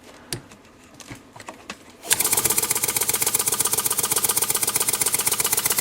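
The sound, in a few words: Harbor Freight paint shaker running on a workbench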